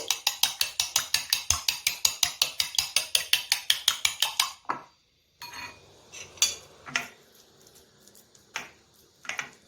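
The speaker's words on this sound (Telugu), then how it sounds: "బీట్ చేస్తున్నా ఎగ్స్" Eggs are beaten briskly in a bowl, a fast, even run of close clinking taps that stops abruptly, followed by a few scattered knocks and clinks with no speech.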